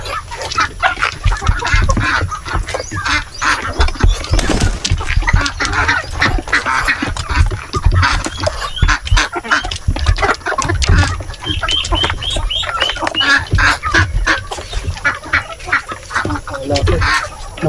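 Ducks quack and chatter continuously close by on a farm in Leyte, Philippines, mixed with clucking fowl and a busy, noisy farmyard background.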